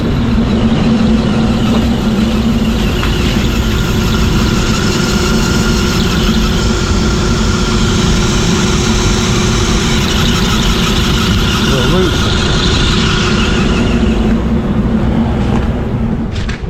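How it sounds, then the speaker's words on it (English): Make-up air unit motor left running after its belt was removed, a loud, continuous, rough droning hum with steady grinding texture and no pauses, heard up close throughout. "we got the belt off, but listen to this motor. It doesn't sound happy"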